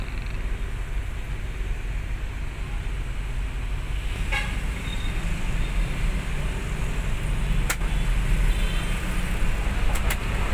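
A bus terminal at Sentolo carries a steady hum of idling and passing buses and traffic, with a short horn toot and a few sharp clicks breaking through the low continuous noise.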